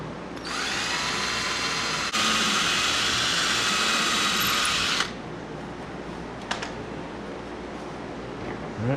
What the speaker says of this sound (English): So we're going to go ahead and drill these holes.